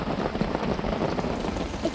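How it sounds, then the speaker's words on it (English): Rain falls at Ichetucknee Springs Campground in Fort White, Florida, a steady close patter of drops on surfaces forming a dense, even wash with slight wind noise. "It's raining, but I found a slug."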